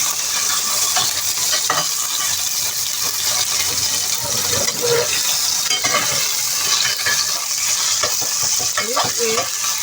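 A pork chop fries in a pan over high heat, giving a loud, continuous sizzle with brief clatters and scrapes as it is flipped.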